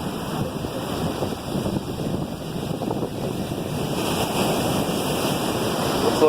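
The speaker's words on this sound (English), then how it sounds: "That's the ocean right below us." Ocean waves at Sebastian Inlet, Florida, heard from above as a continuous loud wash of surf mixed with heavy wind buffeting the microphone, steady throughout and slightly stronger near the end.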